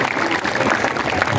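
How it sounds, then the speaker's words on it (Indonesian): Schoolchildren clapping together on a teacher's cue at a junior high school session, a dense, steady burst of applause filling the short moment without pause. "Tepuk tangan, cerdas."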